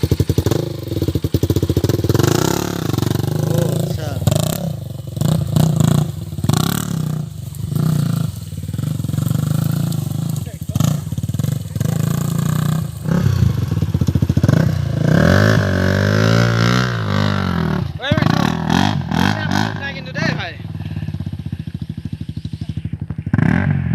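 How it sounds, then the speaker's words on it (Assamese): Off-road motorcycle ridden along a jungle track near Guwahati, its engine revving and labouring loudly and continuously, with clattering and scraping from the rough ground and brush throughout. "লাইফত ফাৰ্ষ্ট টাইমৰ মানে অফ ৰাইডিং বাইক চলাই আছোঁ"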